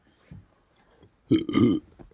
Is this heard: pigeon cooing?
no